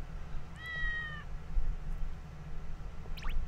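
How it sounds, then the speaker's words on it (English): In Yo-kai Watch 2, a single cat meow rings out early, short and clear at moderate volume over a low humming game background, followed by a few faint bright chimes. "This time it has to be a cat?"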